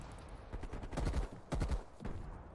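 AK rifle fire in Call of Duty on the Nuketown '84 map: quick bursts of rapid shots, fairly faint and somewhat distant, in two clusters separated by a short pause.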